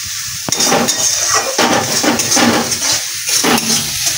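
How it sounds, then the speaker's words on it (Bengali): Spices sizzle steadily in a hot pan while a spoon stirs them, with repeated metallic scrapes and clinks against the pan at an uneven rhythm, close and fairly loud. "দিয়ে এবার সমস্ত মশলা একসাথে আমি একটু ভালো করে ভেজে নেবো"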